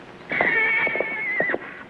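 An old horse neighs in a single sustained whinny lasting over a second, loud and close, with shaky breathy pulses at its start and end, alone without talk.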